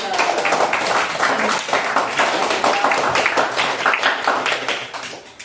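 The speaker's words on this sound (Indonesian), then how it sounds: "Oke, tepuk tangan untuk kelompok 3." Schoolchildren in an Indonesian fourth-grade classroom clap together for a group of classmates, a brisk, fairly loud run of hand claps with some voices mixed in, tapering off toward the end.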